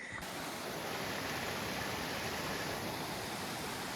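A waterfall near the Nambe Lake trail in New Mexico roars close by in rocky terrain, a steady, loud broadband rush that fills the whole moment with no voices over it.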